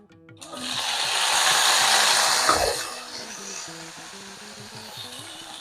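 Okra and curry leaves hit hot oil in a pan for a South Indian tempering, giving a loud broad sizzle that swells for a couple of seconds, then settles to a softer steady crackle with a faint voice underneath.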